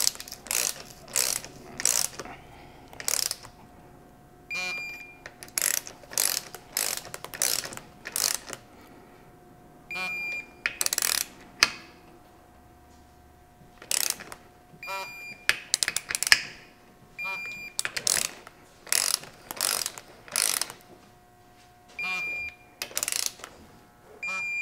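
Ratchet wrench working on a Toyota Land Cruiser split-case transfer case, tightening bolts over a cork gasket: repeated bursts of sharp, close clicking strokes with brief pauses between sets, alone.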